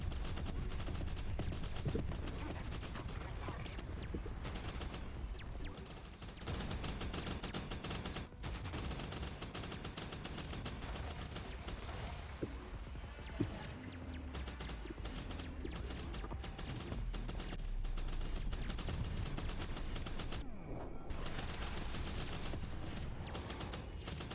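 Defensive turrets in an RTS roguelike video game keep up dense rapid gunfire over a continuous backdrop of game sound and music, steady and fairly even throughout.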